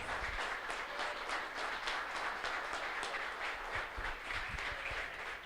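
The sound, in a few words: congregation applauding in church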